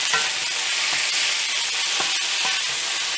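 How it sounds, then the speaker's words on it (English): Thick slices of onion, tomato and yellow pepper frying in a pan for lomo saltado, a steady bright sizzle with occasional soft stirring scrapes, close and continuous. "just slightly fry"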